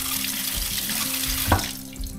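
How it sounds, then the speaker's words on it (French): Cold tap water runs in a steady close rush over freshly made homemade butter in a bowl, with a brief splash midway and no talking. "je mets un peu d'eau froide dessus"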